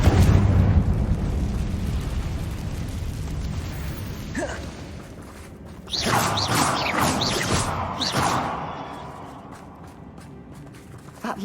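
Confringo fire spell explosions in Hogwarts Legacy, a rumbling blast that fades, then a second burst of bangs and crackling debris before dying away, with no talk over it.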